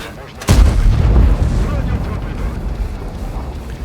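A heavy tank cannon blast in the video game World of Tanks booms out suddenly, followed by a long rumbling roar and low battlefield noise that slowly fades.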